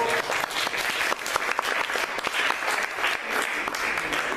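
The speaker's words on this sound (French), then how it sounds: "Natacha Monet, qu'on va applaudir pour la réunion." Applause at a municipal council meeting, a room of people clapping steadily and fairly loudly for several seconds, with individual claps standing out from the dense wash and no speech on top.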